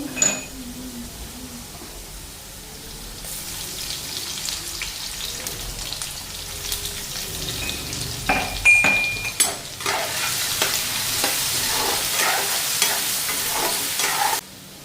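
Ginger and garlic go into a pan where potatoes are already lightly frying, giving a steady sizzle that swells louder midway, with stirring scrapes and clinks of utensils against the pan.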